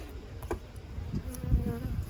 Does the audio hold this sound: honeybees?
yes